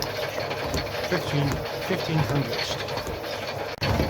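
A metal shaper machine takes 1.2 millimetre deep cutting passes, giving a rhythmic mechanical chatter and scraping strokes repeating every half second or so, with someone talking over it.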